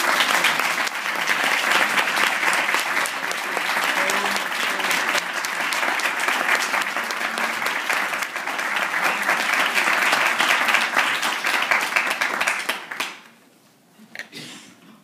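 A lecture audience at Lesley University applauds to welcome Professor William Julius Wilson: dense, steady clapping from many hands that holds for a long stretch, then quickly dies away near the end.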